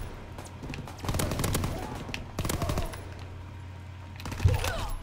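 Assault rifle fire in Call of Duty WWII, a D-Day battle: three loud, close bursts of rapid shots separated by short pauses, over a low background hum.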